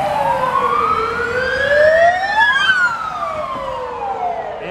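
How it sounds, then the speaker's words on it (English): A St. Petersburg, Russia ambulance siren wails loudly nearby on a city street, its pitch sweeping up and down in long rising and falling cycles over traffic rumble. "The St. Petersburg ambulance."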